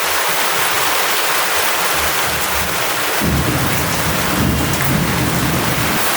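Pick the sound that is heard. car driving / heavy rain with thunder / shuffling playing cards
heavy rain with thunder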